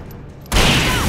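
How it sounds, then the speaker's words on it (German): Sheriff firing many shots in the video game Alan Wake: after half a second of near silence, a loud, dense burst of gunfire fills the rest of the clip without a break. "Finde ich auch gut, wie viel Schuss der Sheriff absetzen kann, ohne nachzuladen."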